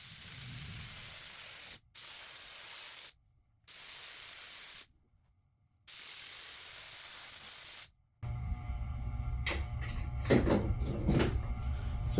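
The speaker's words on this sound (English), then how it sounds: "where we're just spraying the one half, and then later we'll spray the other half." Several long, steady bursts of aerosol spray glue hiss onto upholstery foam, separated by short pauses, followed by quieter rustling and handling noises.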